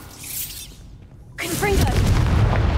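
A Bombarda blasting spell cast in the Hogwarts Legacy video game, bursting with a sudden booming whoosh after a short quiet gap, the rumbling impact swelling and lingering to the end amid faint game sounds.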